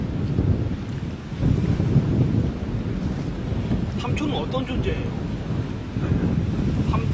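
Ocean waves breaking on a shore at sunset, a steady loud wash of surf with gusty wind buffeting the microphone while people talk over it.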